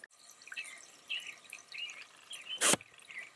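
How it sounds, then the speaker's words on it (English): Water trickles and drips from a float valve filling a livestock water trough on a hay farm, faint and steady outdoors, with one sharp louder splash or click near the end. "here is the water float thing working."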